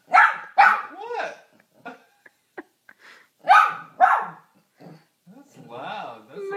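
A dog nearby gives several sharp barks in short bursts with whiny yips between them, with a person talking alongside.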